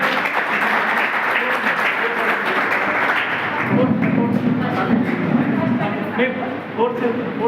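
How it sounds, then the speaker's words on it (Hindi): An audience claps steadily for a prize winner at an inter-college sword-fighting competition award ceremony, a continuous wash of applause with people talking over it. "दीपमाला के लिए तालियां बजाएं हम लोग।"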